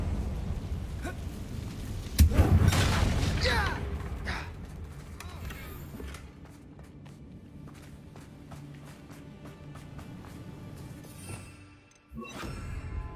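Bombarda and Confringo spell blasts in Hogwarts Legacy, cast inside a goblin mine: a loud, booming burst strikes early and trails into rumbling debris, followed by quieter cavern ambience and a further sharp impact near the end.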